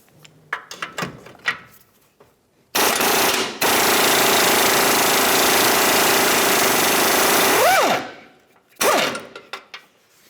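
An 18mm subframe bolt on a Ford Flex lower control arm is driven out with a loud, sustained power tool burst lasting about five seconds, with a rising whine as it stops, framed by scattered clanks and taps.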